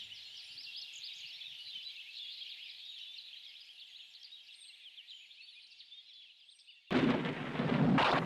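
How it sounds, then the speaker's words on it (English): Deep in a forest, steady birdsong chirps alone until a lightning strike sets off a sudden loud burst of thunder that rumbles on to the end. "It begins with a lightning strike deep in the forest."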